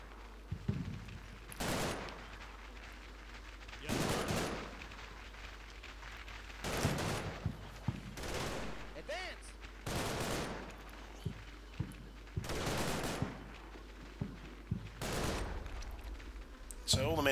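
Covering fire in the WWII Normandy war game Combat Mission Battle for Normandy, with repeated bursts of machine-gun and rifle fire a second or so long, separated by short lulls.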